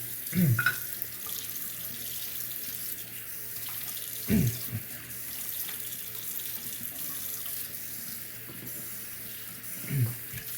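Tap water runs steadily to wet a Shapton 1500 sharpening stone for honing a French frameback straight razor, a constant soft hiss broken by three brief splashy bursts as the stone passes under the flow.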